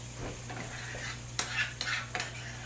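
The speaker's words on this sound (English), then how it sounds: "You slice your red peppers. Put those in the pan." Sliced red peppers dropped into a frying pan, a steady sizzle under a low hum, punctuated by a few sharp clatters and stirring scrapes near the end.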